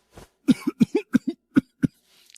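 A run of sharp, dry coughs, about eight close bursts in quick succession, near and loud against silence, from a sick professor with purple lips who coughs up black blood.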